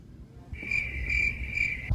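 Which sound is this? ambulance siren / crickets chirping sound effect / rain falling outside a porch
crickets chirping sound effect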